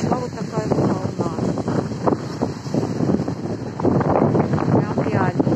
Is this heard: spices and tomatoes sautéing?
no